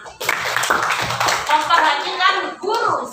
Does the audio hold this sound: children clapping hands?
yes